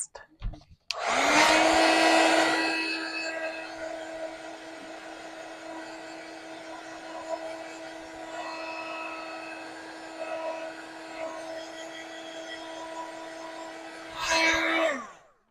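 A handheld heat tool blows a steady whooshing roar to dry cut craft card pieces, switching on abruptly, running continuously at close range, then cutting off with a brief final burst.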